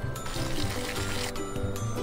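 Water is poured onto a plant in a steady, close trickle that runs continuously for a couple of seconds with slight splashing.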